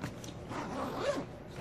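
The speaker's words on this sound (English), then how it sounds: "It has a top zipper." The top-compartment zipper on an Osprey Aura 50L backpack is pulled in one short, soft rasping sweep, heard close and faint over low background noise.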